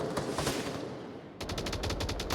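Gunfire rattles in the VR shooter Onward: rapid bursts of automatic shots, first a few scattered cracks, then a dense, loud, close burst of fire.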